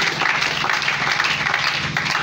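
A church congregation applauding during a sermon, a dense, steady round of clapping from many hands filling the room, loud and without pause.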